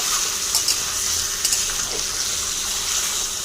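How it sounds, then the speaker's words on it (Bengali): Chicken frying with onions in a pan, a steady close sizzle and hiss that runs unbroken throughout, with a few soft clinks of stirring on top. "পেঁয়াজের সাথে চিকেনটা ভেজে নিলাম"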